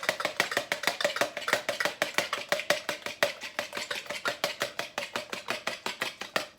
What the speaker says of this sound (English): I'm going to break my egg into a jug beforehand. And whisk that egg up.